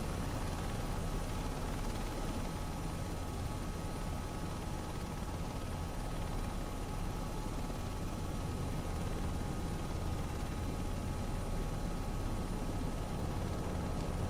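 A simulated helicopter making a rolling takeoff near Mt Fuji in MSFS 2024, its rotor and engine roar steady and loud throughout.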